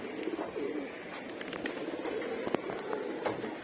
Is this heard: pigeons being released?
yes